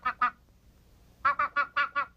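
Sharp nasal honks from a goose: two quick calls, a pause, then a rapid run of five more, loud and close with quiet between.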